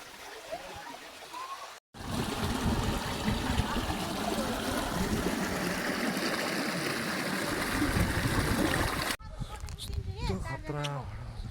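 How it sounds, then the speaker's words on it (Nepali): Hot water rushing out of a spring outlet at Nakhal, a loud, steady gushing that fills about seven seconds before cutting off, with people talking before and after. "यस्तरी पानी निस्केको छ"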